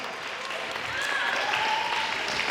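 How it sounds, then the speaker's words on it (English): An audience claps together in a burst of applause that swells slightly and holds steady, with no one speaking. "Round of applause."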